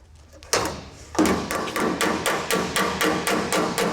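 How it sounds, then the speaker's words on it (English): A metal hammer strikes a dolly held behind a Full Size Bronco body panel during rust repair, a rapid run of about a dozen sharp, close, ringing metallic taps in an even rhythm. "The dolly is used to support the metal and pinch it between the dolly and the hammer."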